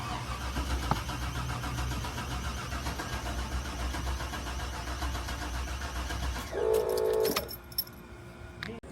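An old GMC truck engine cranks steadily for about six seconds as it tries to start but does not catch, then cuts off, followed by brief metallic rattles and clicks.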